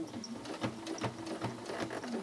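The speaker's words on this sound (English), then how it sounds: "and then keep stitching." A sewing machine stitches binding onto a quilt in a rapid, even mechanical rhythm, close and continuous, with no talk.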